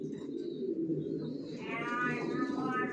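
Racing pigeon babies give soft, throaty coos and murmurs, close up and continuous, with a brief chirping note layered in near the end.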